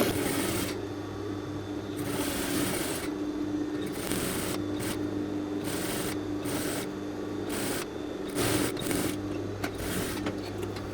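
A sewing machine stitching fabric at regular stitch length 2.5, a steady mechanical hum with a rapid needle rhythm, stopping and restarting in short runs throughout.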